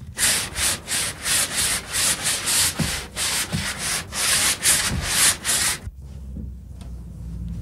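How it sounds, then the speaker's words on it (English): Steady back-and-forth strokes of wood sanding run close and loud for about six seconds as a quick home fix is prepped before priming, then stop, leaving a quieter low hum. "So when you come to the sanding procedure, you don't have to take so long to sand"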